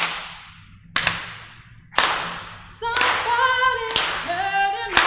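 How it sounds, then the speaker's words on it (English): Sharp, evenly spaced claps from a Unitarian Universalist congregation in Pasadena join a live song, striking about once a second with singing and sustained tones rising beneath them. "Can we add some claps to that?"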